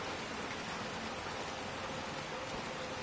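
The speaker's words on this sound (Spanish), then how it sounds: "Está lloviendo." Steady, even rain hiss from the Little Nightmares 2 video game fills the moment as a dense wash of patter with no pauses or voices.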